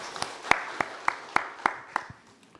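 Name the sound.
congregation applause in church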